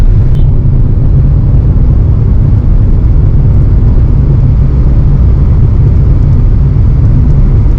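Inside an air-conditioned car driving on a road in hot weather, a loud continuous low rumble of engine and tyre noise, steady throughout with no talking.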